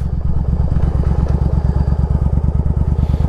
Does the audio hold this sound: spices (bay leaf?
no